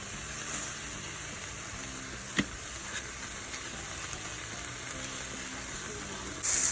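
Venison deer steaks frying in a pan, a steady close hiss and crackle of sizzling fat that runs throughout, with one sharp pop partway through and a louder burst at the end.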